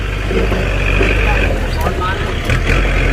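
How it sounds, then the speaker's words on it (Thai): A farm tractor in Chanthaburi drives back up front to tow a dump truck stuck in mud, its engine a steady low rumble near the listener, with someone talking over it. "เอาแล้วเรามาดูกันรถไถจะกลับมาด้านหน้าอีกครั้งหนึ่งครับเพื่อจะลากครับ"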